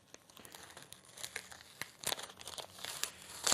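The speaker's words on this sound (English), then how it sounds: "I'm just tearing the sticker off." A sticker being torn and peeled off by hand, a close, crinkly run of crackling rips and small tearing bursts that build in loudness toward the end, with no talking.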